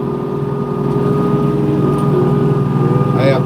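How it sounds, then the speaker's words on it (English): A Kubota LX2620 cab tractor engine drones steadily and fairly loud while plowing snow with a Titan snow blade, a constant low hum with a faint brief squeak near the end. "it's a Kubota LX2620 cab tractor"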